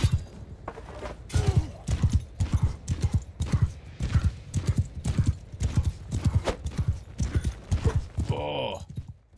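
Horse hooves clip-clop in a fast, rhythmic gallop in the Mount and Blade 2 video game, loud and close, ending with a brief whinny.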